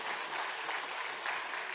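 Church congregation applauding during a Sunday service, a steady wash of many hands clapping together at moderate distance, fairly quiet and continuous with no talk over it.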